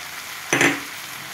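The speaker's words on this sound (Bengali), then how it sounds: "এবারে আমি কাঁচা লঙ্কা দিয়ে দেব।" Green chillies hit hot oil in a pumpkin curry, setting off a sudden sharp sizzle that bursts up and fades within half a second, alone and close.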